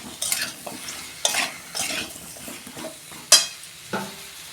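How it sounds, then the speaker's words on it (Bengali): Vegetables for a Bengali pui shak and fish-head dish being stir-fried with spice masala in a pan, with repeated scraping stirs and a steady close sizzle, no talk. "আমি সবজিগুলো এই মশলার সঙ্গে ভালো করে কষাবো।"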